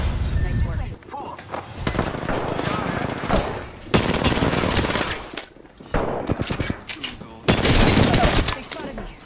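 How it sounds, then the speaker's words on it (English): Automatic gunfire in the Apex Legends battle royale, several long rattling bursts separated by short pauses, close and loud, with voice callouts mixed in. "Opening fire."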